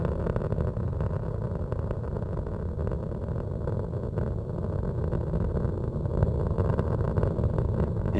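Space Shuttle Atlantis on the STS-115 launch from Kennedy Space Center, engines throttling back up through maximum dynamic pressure, heard as a steady, dense, low roar that holds unbroken and loud throughout.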